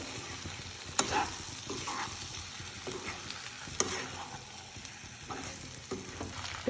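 Mixed vegetables being stirred in a frying pan on a gas stove, with a steady sizzle and scraping spoon strokes that rise and fall, close and alone with no talk.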